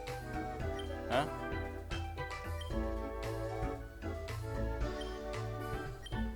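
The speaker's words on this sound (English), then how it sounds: "Oh, that's a phone. That's a phone call." A phone call rings in the Pokemon Uranium video game, a chiming electronic tone repeating over looping game music, with a voice speaking over it.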